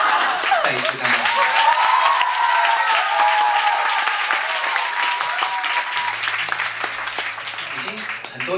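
A concert audience in Taipei applauding, dense loud clapping that holds for several seconds and slowly thins, with a voice speaking over it.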